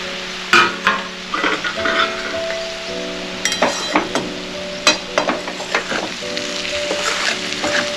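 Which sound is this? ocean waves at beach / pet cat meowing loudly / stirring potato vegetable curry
stirring potato vegetable curry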